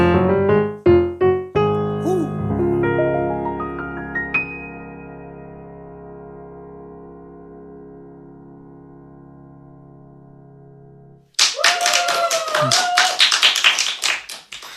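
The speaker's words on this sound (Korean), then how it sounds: "정말 영혼이 담긴 박수 감사합니다." A live piano song ends with sustained, fading notes and a long quiet decay, then an audience bursts into a few seconds of loud, dense applause at a radio broadcast performance.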